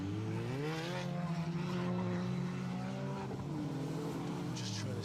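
Engines of rally cars on a Protyre Circuit Rally Championship stage, a Mini hunted down by car 71, wail loudly in rising and dipping revs with a brief tyre-squeal edge, with some talk over them.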